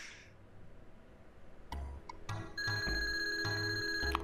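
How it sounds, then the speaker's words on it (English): A phone rings in the Super Mario RPG video game, a short burst of repeated electronic ringing tones over game background music, fairly clear and close. "Apparently I have a phone call."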